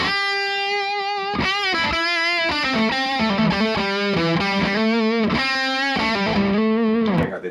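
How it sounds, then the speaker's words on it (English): Electric guitar through a distortion pedal playing a lead line, sustained crunchy notes shifting pitch in short phrases, loud and steady throughout. "now if I go to the distortion pedal and do the same idea"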